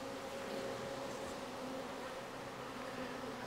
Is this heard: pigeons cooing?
no